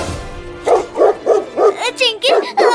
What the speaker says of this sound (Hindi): वो देखो, वो कुत्ता फिर से आ रहा है और वो एक और कुत्ते को लेकर भी आ रहा है।